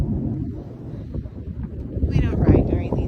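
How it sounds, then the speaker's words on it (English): Strong Santa Ana wind gusts roar and buffet across the microphone outdoors near horses, a steady rushing blast that swells louder midway, with voices speaking over it. "Here comes the wind, mamas."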